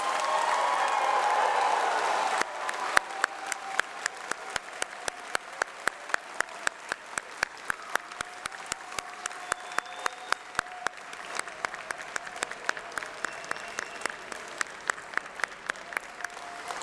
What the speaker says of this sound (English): because I think they also deserve a personal round of applause